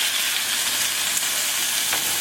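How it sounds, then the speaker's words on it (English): Steady, loud sizzling of wrapped halibut searing in hot butter in a pan, a continuous crackling hiss with no voices. "You see that sizzle, that's what you want."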